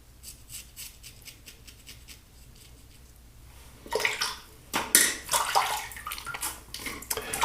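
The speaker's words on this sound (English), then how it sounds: "when you rinse off the soap" Water splashes and runs in a bathtub or sink as soap is rinsed away, starting as a faint trickle and rising to louder, uneven gushing bursts in the second half.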